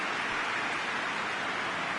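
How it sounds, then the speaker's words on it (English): Steady rain falling over a football stadium in the eFootball PES 21 video game, a continuous even hiss with no breaks or individual drops standing out. "Rain starting to fall here."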